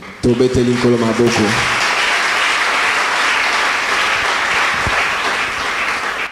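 A church congregation bursts into loud, sustained applause that fills the whole stretch without fading, with a brief sung or musical phrase at the very start before the clapping takes over.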